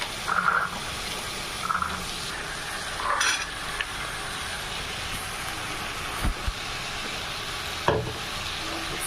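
Green peas dropped into a hot pan for methi malai matar, sizzling softly and steadily under the occasional scrape and clink of stirring, with a low continuous kitchen background.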